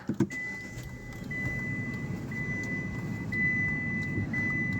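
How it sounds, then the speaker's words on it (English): After a couple of clicks, a 2015 Hyundai Grand i10 Asta engine starts and settles into a low, steady idle while a soft electronic chime repeats at regular intervals. "Okay, so let's start the car."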